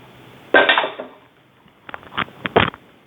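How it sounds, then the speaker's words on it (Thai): A utensil scrapes leftover instant noodle stir-fry with shrimp from a pan, first in one long loud scrape, then in several short sharp scrapes close by. "ขูดให้หมดนะครับเสียดาย"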